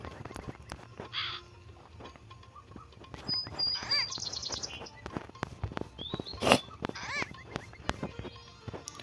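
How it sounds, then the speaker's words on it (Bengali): Game sound effects in Meena Game 2 as a crow chases the player: bird-like chirps and squawks with clicks and short electronic tones over a busy soundtrack, steady and fairly loud throughout. "কাক আমাদের পেছনে পড়ে গেছে।"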